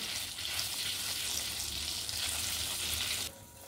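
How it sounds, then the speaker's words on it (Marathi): Khoa frying in melted ghee in a pan for Marathi-style peanut katli, a steady close sizzle with faint stirring that runs evenly before dropping off sharply near the end. "आता व्यवस्थित याला पण चांगलं परतून घ्यायचं आहे।"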